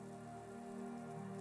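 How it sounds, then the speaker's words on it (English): Soft, steady rain patters on a wooden treehouse roof in a rainforest, a faint, even wash of drops with no voices over it. "Rain fell softly outside Lena's treehouse, tapping a sleepy rhythm on the wooden roof and dripping steadily from the lush green leaves"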